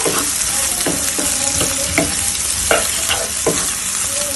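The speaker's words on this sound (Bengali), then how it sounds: "একটু আগে ভেজে রাখা ডিমগুলোও দিয়ে দিতেছি সবগুলো একসাথে মিক্স করবো" Chicken chow mein noodles and fried eggs are stir-fried together in a loud, steady sizzle, punctuated by repeated sharp spatula scrapes and clanks in an uneven rhythm, with no voices.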